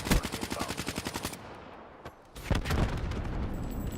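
Black Ops 3 gunfire: a rapid automatic burst of evenly spaced shots, then a pause and a few more booming shots with game noise, loud and alone.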